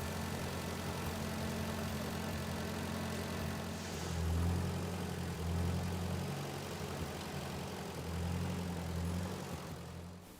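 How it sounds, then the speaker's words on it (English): A small red tractor's low engine rumbles steadily at idle while moving dirt, its pitch rising and falling a little as it works, with no talking. "This tractor is moving dirt from one place to another."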